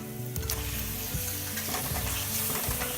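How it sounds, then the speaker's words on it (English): Loud, dense sizzling of cuttlefish frying in a hot pan, a steady crackling hiss throughout with occasional stirring scrapes. "so it has been frying. I'm going to go ahead and add the cuttlefish"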